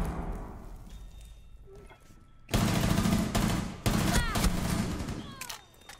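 Gunfire in a multiplayer shooter video game: scattered shots, then loud bursts of rapid automatic fire with sharp cracks and echoing tails, mixed with faint background game noise.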